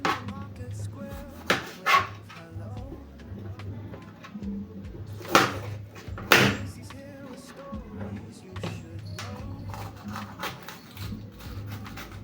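A knife chops okra (finger ladies) into small pieces on a board, giving a run of close, sharp taps in uneven bursts, with a few louder strikes.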